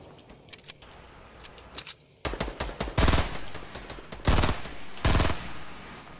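Gunfire crackles in a Fortnite match: scattered sharp single shots at first, then loud bursts of rapid automatic fire in three or four close, dense volleys.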